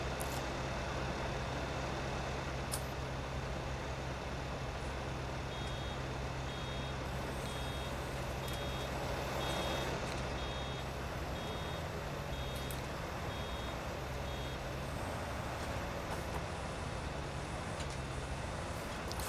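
In the Farming Simulator 19 video game, a vehicle backs up with evenly spaced electronic reversing beeps sounding over a steady, loud engine and truck rumble.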